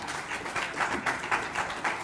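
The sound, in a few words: applause for players at an award ceremony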